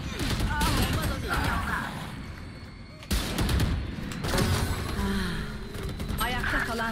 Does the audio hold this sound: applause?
no